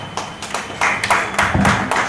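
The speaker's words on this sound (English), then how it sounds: "A round of applause for you," Scattered hand claps build into light applause from a small group at a university event, uneven and fairly close.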